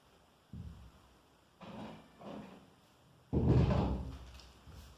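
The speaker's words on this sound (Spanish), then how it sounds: "Voy a cerrar la puerta." Indoor door being closed during a classroom-style talk, several dull thumps and shuffles with a heavier final bang, fairly close and with no voices.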